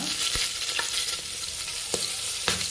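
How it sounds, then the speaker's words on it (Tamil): Urad dal, chana dal and green chili frying in hot oil with mustard seeds: a steady close sizzle with a few sharp pops and spatters scattered through it, no voices. "உளுத்தம்பருப்பு, கடலைப்பருப்பு நல்லா எண்ணெய் காஞ்சதுக்கப்புறம் போட்டுக்கோங்க"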